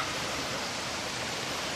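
Stream water flows steadily along a walking path, a continuous soft rushing hiss with no breaks and no voices.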